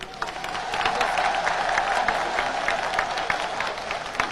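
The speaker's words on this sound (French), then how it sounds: "Que l'écho de ces vibrations retentisse en applaudissements" A large crowd applauds steadily and loudly at a Haitian independence bicentenary celebration, a dense wash of clapping with faint cheering mixed in.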